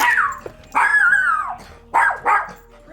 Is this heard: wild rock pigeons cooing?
no